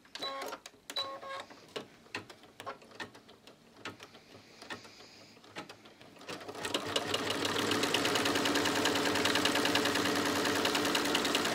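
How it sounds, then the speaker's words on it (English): A home embroidery machine stitches the placement line for a mug rug: scattered mechanical clicks and taps at first, then a steady, fast, close rattling whir of needle strokes that runs on without pause, with no voices. "This is going to stitch the placement on the left side of the mug"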